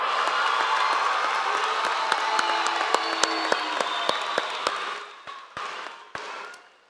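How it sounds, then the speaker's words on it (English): A high school graduation crowd applauds and cheers in a large hall, a broad wash of clapping with sharp individual claps standing out, gradually thinning toward the end. "give them a big round of applause"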